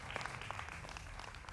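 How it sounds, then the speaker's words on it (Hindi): Studio audience applause on a Hindi televised debate show, a steady wash of clapping held at an even, moderate level for the whole short stretch with no speech over it. "जोरदार तालियों से अभिनंदन है"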